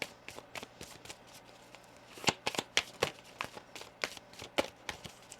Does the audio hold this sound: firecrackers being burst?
no